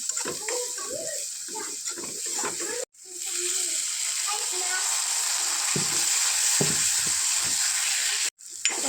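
Food being stirred and fried in a pan: a close, steady sizzle with scraping stirs early on, briefly cut by two short dropouts, and no voices.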